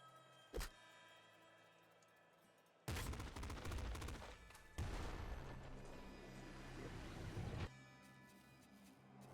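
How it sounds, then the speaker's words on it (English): Rapid bursts of pop rifle fire in the video game Nuclear Throne, a single shot followed by long dense volleys of crackling gunfire with short breaks between them. "Pop rifle, crazy fun."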